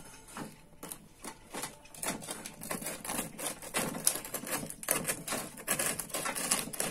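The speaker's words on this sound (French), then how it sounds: "Allez, tant pis, je vais couper une tranche." A knife saws through a slice of soft homemade bread baked in a silicone cake mould, giving a rapid, uneven series of crisp scratchy strokes that grow somewhat louder as the cut goes on.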